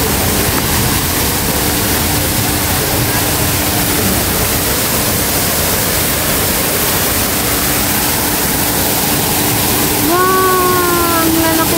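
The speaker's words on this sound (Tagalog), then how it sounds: "Waterfall." Water pours steadily at a small waterfall feature at Longshan Temple in Taipei, a loud continuous rushing wash close by, with a faint tonal whistle near the end.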